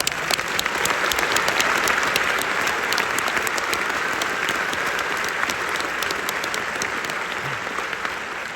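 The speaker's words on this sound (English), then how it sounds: "So I want to give a round of applause to those kids" Sustained audience applause for first-generation high school graduates and their families at a graduation ceremony, dense, even clapping from a large crowd holding steady throughout.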